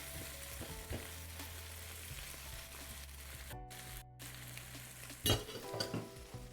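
Onions caramelizing in a pan make a steady, moderately loud sizzle, joined by a few clinks of a utensil and brief scraping as they are stirred, with one sharper clatter near the end.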